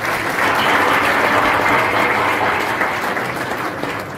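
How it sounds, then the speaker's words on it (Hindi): Loud, sustained audience applause at a Hindu New Year (Vikram Samvat 2081) stage function, a dense steady wash of clapping filling the whole stretch and easing slightly at the end, with no talk over it. "तालियां जोरदार तरीके से बजनी चाहिए।"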